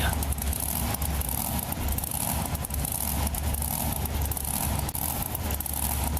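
Monster truck engine in a BeamNG Drive Monster Jam arena run, a steady dense roar with broadband noise held throughout, no speech.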